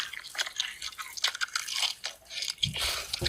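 Fried chicken bones are crunched and chewed up close, a steady stream of crisp cracking bites and wet mastication lasting the whole stretch, with no talk.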